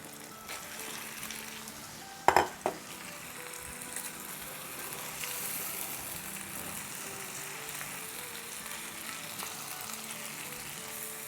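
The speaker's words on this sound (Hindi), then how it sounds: "तो अब इसमें हम अपनी चिकन डाल देंगे जो कि बोन के साथ है" Bone-in chicken, about two kilos, frying with softened onions in a pot, giving a steady low sizzle with a couple of sharp clattering knocks early on and then an even, quiet crackle throughout.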